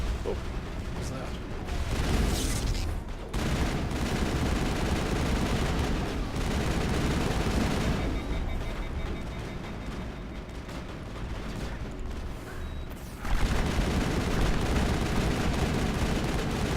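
Gunfire in Mass Effect, rapid bursts of weapon shots mixed with rumbling blasts, loud and continuous with short pauses, under a voice talking.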